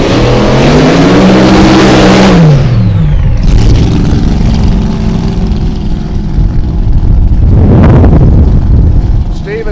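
Drag race car powered by a blown, injected 471 cubic inch Hemi at a drag strip, very loud and close, revving with a falling pitch before further raw engine blasts.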